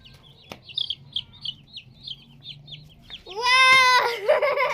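Pet chicks give a run of short, high chirps, close and fairly clear, followed by a louder, longer squawking call from a chicken at the end.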